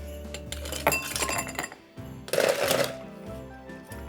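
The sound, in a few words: ice cubes clinking into a cocktail glass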